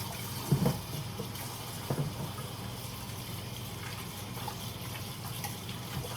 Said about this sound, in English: Let me wash my hands, even though they're just going to get dirty again.